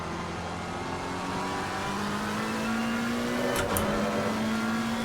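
A McLaren 720S race car engine in Assetto Corsa Competizione drones steadily and then revs higher, its pitch climbing throughout, with a brief high-pitched shift whine near the end.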